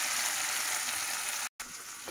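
Spices are tipped into a sizzling tadka in a home kitchen pan with cut potatoes, giving a loud, steady frying hiss with a brief dropout near the end.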